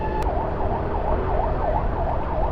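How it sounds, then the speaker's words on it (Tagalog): Ambulance siren wailing steadily from a distance during a fire in Valenzuela, its rising and falling tone repeating over a continuous low rumble of traffic. "Lakas na ng hiyaw na ng ambulansya"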